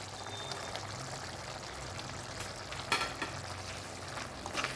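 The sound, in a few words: stirring coriander powder into tomato curry in a pan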